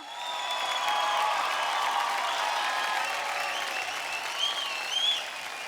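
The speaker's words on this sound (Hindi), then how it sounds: "इतनी कंजूसी तालियों में एक बार फिर तालियां।" A studio audience at a televised dance reality show claps loudly and steadily, a thick, sustained wash of applause with a few brighter cheering bursts near the end and no speech.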